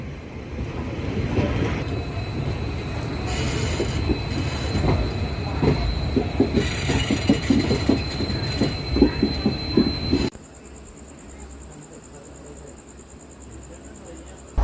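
A Guntur–Rayagada passenger express pulls out of platform six at Vijayawada Junction, rumbling loudly on the rails with rhythmic wheel clatter and squeal for about ten seconds before the sound cuts to a quieter carriage interior.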